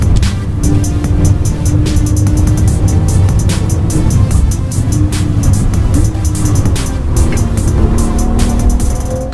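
A Porsche 911 GT2 RS is driven hard, its engine note steadily loud with rising and falling revs and sharp clicks and clatter over the top, no voices.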